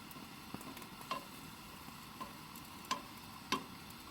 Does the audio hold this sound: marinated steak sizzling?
yes